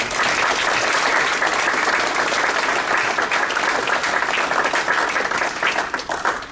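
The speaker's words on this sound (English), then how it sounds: "Let's give them a round of applause." Crowd at a school district staff awards ceremony gives the honorees sustained loud applause, a dense continuous roar of clapping that holds steady before starting to thin out at the end.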